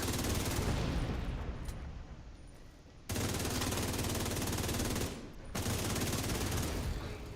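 Dense, continuous automatic gunfire from a shooter game, The Division 2, rattling loudly and alone for several seconds, breaking off briefly twice before resuming at full volume.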